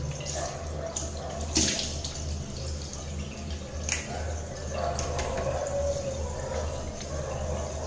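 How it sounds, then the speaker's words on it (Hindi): Running tap water splashing as a face is rinsed after shaving, a continuous wash of flowing water broken by a few brief louder splashes, with no talking over it. "थोड़ा और धोते हैं।"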